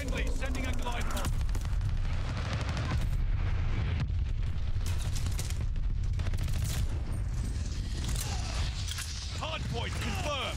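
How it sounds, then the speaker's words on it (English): A glide bomb strike in Call of Duty: Vanguard, with dense rumbling explosions and rattling gunfire that hold loud and steady throughout, layered with near battlefield noise and a few brief radio-style voice callouts. "Friendly sending a glide bomb."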